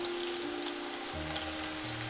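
Onions frying in oil in a cooking pot: a steady, close hiss of sizzling fat goes on without a break over a low hum, with no talk.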